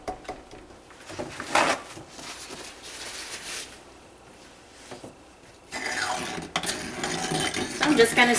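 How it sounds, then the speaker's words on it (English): A stick blender whirs in bursts while mixing pureed avocado with aloe vera juice into soap oils, loud buzzing motor runs separated by quieter pauses and clinks, with a person talking in between. "I'm just going to stick blend this just till it's all incorporated in with the oils"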